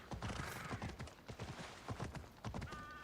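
Horse hooves clip-clopping in a steady galloping rhythm in Assassin's Creed Odyssey, close and continuous over busy game ambience, with a brief whinny near the end.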